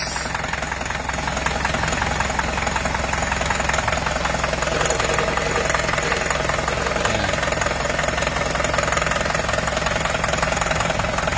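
Close, loud idling Kia Rio engine with a persistent metallic knock repeating in a steady fast rhythm throughout; a voice is briefly audible.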